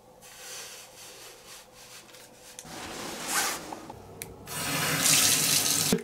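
Water runs from a shower, a continuous hissing spray that shifts and grows louder and brighter in the second half, with no talking.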